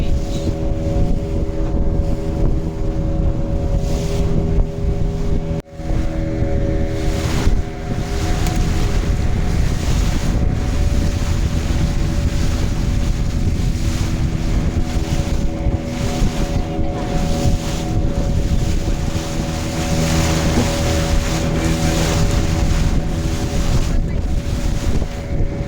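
A boat on a sea safari off Devbag beach moves steadily through waves. Engine drone and strong wind buffeting the microphone persist throughout, with occasional voices faintly underneath.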